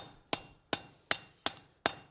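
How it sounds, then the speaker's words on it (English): Five sharp hammer blows on a forge-welded joint of a rasp, struck at an even, unhurried pace, each a crisp ringing strike that decays quickly, close and alone. "giving this joint a little bit of hammer work"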